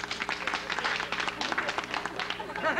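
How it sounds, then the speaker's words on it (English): A television studio audience applauds at a talk show, a short burst of lively, dense clapping at moderate level with some crowd noise mixed in. "please show so by applauding."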